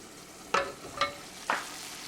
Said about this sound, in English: Bring your gas to simmer, cover with the lid and let it simmer for 5 minutes